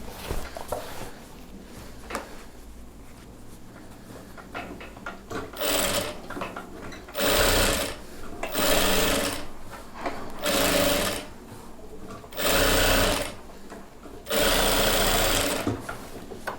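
Electric sewing machine stitching a chudidhar pant, running in repeated bursts of steady rapid whirring and needle clatter with short pauses between, close and fairly loud, alone without talk.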